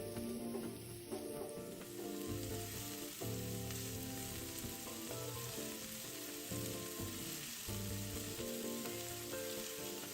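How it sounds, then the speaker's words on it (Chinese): Diced onion frying in a tablespoon of hot cooking oil over medium heat, a loud close sizzle that crackles steadily throughout with occasional stirring scrapes, no voices. "再倒入熱油內爆香。"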